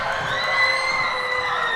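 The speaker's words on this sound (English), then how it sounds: "And the crowd is just going wild." Crowd at the end of a girls high school basketball game cheering and whooping wildly, a dense sustained roar of shouting voices.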